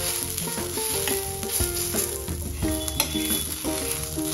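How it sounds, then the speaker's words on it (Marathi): Ten garlic cloves and ginger sauté in hot oil for a spicy chicken curry, a steady, dense sizzle that fills the whole stretch, close and continuous with no voices. "10 पाकळ्या घेतल्या मी आणि आलं हे आपण छान परतून घेऊ।"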